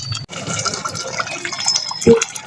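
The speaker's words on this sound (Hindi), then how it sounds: "अब मैं इसमें थोड़ा सा पानी भी ऐड कर रही हूँ" Water poured into a simmering masala for chicken pasanda, a close, brief liquid fill with splashing and a gurgle over kitchen background noise.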